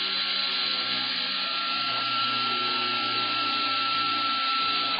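A Dotco air-powered belt sander running on compressed air, giving off a steady high-pitched whirring hiss with a constant tone, close and unbroken for the whole span, with no talking.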